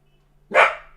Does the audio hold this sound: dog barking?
yes